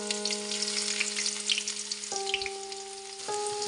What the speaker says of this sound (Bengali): ছোলার ডাল ভুনা করার জন্য এখানে পরিমাণ মতো তেল দিয়ে নিয়েছি। এর মধ্যে দিয়ে দিচ্ছি পেঁয়াজ,